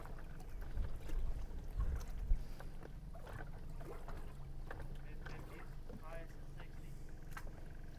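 A fishing boat runs at full power on an electric trolling motor between boat docks, with a steady low motor drone and water and wind noise under faint talk.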